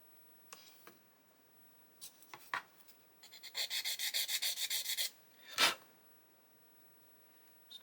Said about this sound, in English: sand some more of it away